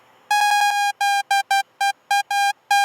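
Default patch of Ableton's Analog synth plays a bright, buzzy tone in a run of short, staccato notes of uneven length, loud, close and isolated against silence.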